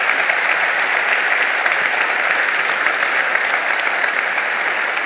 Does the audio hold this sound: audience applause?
yes